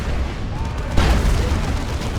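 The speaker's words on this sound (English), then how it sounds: "Demolisher Cannon." A Leman Russ Demolisher cannon fires in a Warhammer 40,000 Dawn of War 2 3v3 match, landing as a loud boom within dense, continuous battle noise of gunfire and explosions.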